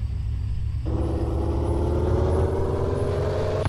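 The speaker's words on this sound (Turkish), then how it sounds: "Bu arabadan gelen ses arkadaşlar." A car engine in the Car For Sale dealership game starts after a short pause and settles into a steady, loud, rumbling idle with a buzzy exhaust tone that holds to the end.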